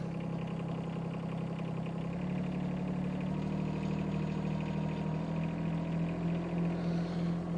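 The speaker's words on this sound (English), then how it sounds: "So we're going to bring the revs up a little bit." A 1.2-ton Chinese mini excavator engine runs steadily at close range, its tone lifting slightly partway through as the revs are brought up, with a continuous loud rumble and no talking.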